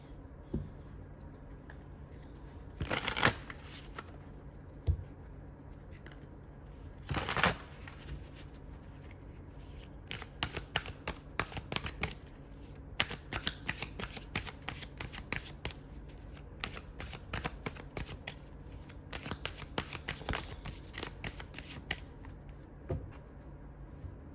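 Oracle cards being shuffled close by in two short riffles, then a long run of quick, crisp card flicks and slaps, with no voice.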